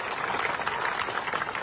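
Crowd applause at a Congress political rally in Nizamabad, a steady wash of many hands clapping that holds at an even level for the whole stretch, with no voice rising above it.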